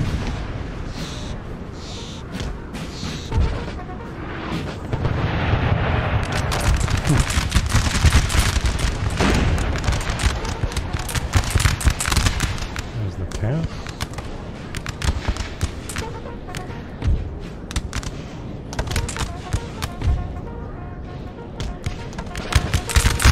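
Napoleonic-era musket volleys and canister shot crackle and boom without pause in a battle of the Peninsular Campaign in Napoleonic Total War III, a loud, dense stream of shots and blasts that keeps going throughout.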